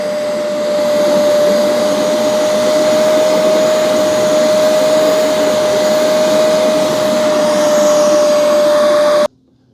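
A Bissell Little Green Pro carpet spot cleaner runs with a loud, steady suction whine and motor roar that holds constant before cutting off abruptly near the end.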